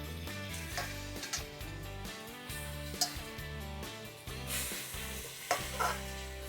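Chicken curry-cut pieces hit a hot pot for one-pot red pulao, sizzling and being stirred with a few sharp scrapes, faint beneath steady background music.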